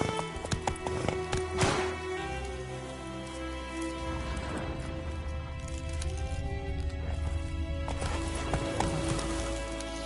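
Roach, the horse in The Witcher 3, gallops in a rapid rhythmic clip-clop of hooves over a steady ambient bed of rain-like patter and game sound, loud and close throughout.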